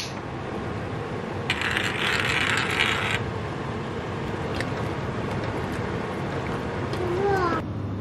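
Glass spice jars clink together as one is tapped against the other to shake nutmeg out faster in a home kitchen, a bright rattling tapping lasting about two seconds over steady background noise.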